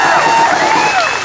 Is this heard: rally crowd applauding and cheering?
yes